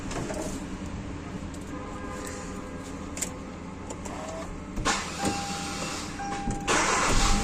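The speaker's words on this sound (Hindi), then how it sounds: "तो ये कर दिया गाड़ी को हमने स्टार्ट।" A Hyundai Verna with a misfire fault and a newly replaced ignition coil is started and settles into a quiet, steady idle hum, with a louder rise in the engine sound partway through.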